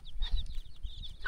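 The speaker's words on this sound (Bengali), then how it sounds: "এগুলো কি পাহাড়ি মুরগি?" Hill chickens in an Adivasi village in Purulia give short, close clucks and squawks in a quick uneven series, with outdoor noise around them.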